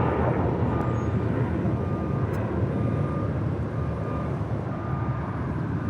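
A JetBlue Airbus A321 jet roars at Los Angeles International Airport, a sustained broad rumble of engines heard from the ground, steady and fairly loud with no talking.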